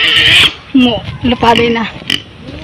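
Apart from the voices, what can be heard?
pigs grunting on a farm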